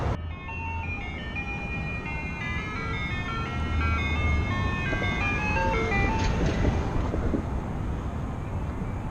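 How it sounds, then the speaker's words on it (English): An ice cream truck passes along a city street near the Esplanade, its chiming melody ringing out steadily for the whole stretch over a constant bed of traffic and street noise. "Honestly, first ice cream truck I've seen all summer."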